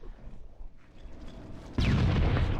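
A frag grenade goes off in Halo CE, a sudden deep, loud blast that cuts in partway through and rumbles on after a quieter stretch of game ambience.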